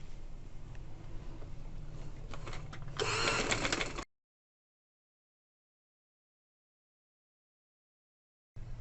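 A sewing machine stitches together pieces of a girl's salwar, whirring faintly, then running louder and faster for about a second before cutting to silence, with a brief return of the hum at the very end.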